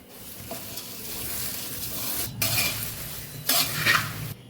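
Puffed rice chevda mixed with sev and gathiya makes a dry rustling, crunchy stir close up, with two louder scraping swells near the end.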